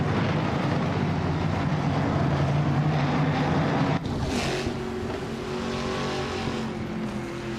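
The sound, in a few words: race cars driving in a racing video game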